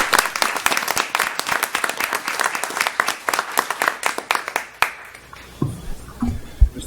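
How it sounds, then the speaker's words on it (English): A round of applause at a HART transit board meeting, a dense burst of many hands clapping that fades after about five seconds, followed by a few scattered sounds and a voice. "please give a round of applause for those"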